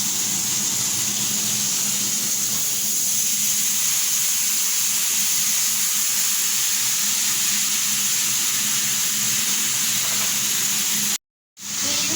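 Marinated fish frying in hot oil in a wok (kadai), a loud steady sizzle with a hissing wash that holds for about eleven seconds before a brief cutout.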